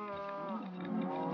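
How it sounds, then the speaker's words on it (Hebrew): A red cow, the mooshroom from the video game Minecraft, gives one drawn-out moo, loud and close, that wavers slightly in pitch and stands alone without talk. "אפשר לשים פרה אדומה, נחמדה כזאתי."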